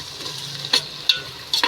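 Green chillies dropped into onions frying in a pan for chicken pulao, giving a steady sizzle with a few sharp spits and stirring clatters, close and without talk.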